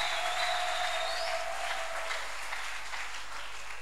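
A church congregation claps and cheers for the Lord, a sustained, moderately distant wall of applause with a thin whistling tone riding over the start.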